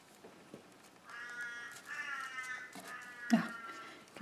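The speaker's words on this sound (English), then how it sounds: "Can you hear the crows?" Crows caw outdoors in a drawn-out, harsh call of several strained notes, with a few louder, nearer squawks toward the end, and no talking.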